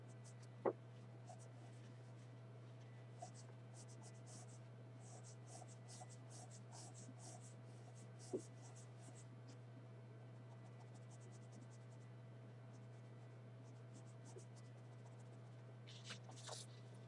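A graphite pencil drawing curly hair on paper: faint, close scratchy strokes in short irregular bursts over a steady low background hum, with a few soft taps and no talk.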